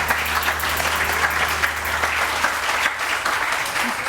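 Studio audience on a Pakistani morning television show breaks into sustained, dense applause, steady and loud throughout with no pauses.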